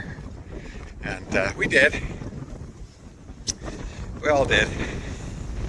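Gusty wind roars and buffets the microphone in a steady rush on the Camino de Santiago trail, with people talking over it.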